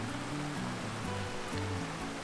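Cascading water at Bridal Falls makes a steady, close rushing roar with a dense spattering texture and no voices over it.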